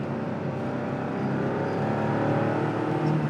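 A classic Porsche 911 hot rod drives along with its engine giving a steady, moderately loud drone from inside the car, rising slightly toward the end, with no voices.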